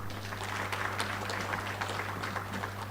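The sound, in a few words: audience applause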